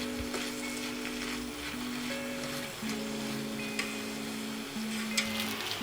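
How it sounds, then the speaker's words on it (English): Vegetables stir-fried in a pan with oyster sauce for chicken yaki udon, giving a steady close sizzle with stirring scrapes, over a low steady hum of background noise. "I'd say I stir fry them for about 4 minutes in total, or until they're slightly softened"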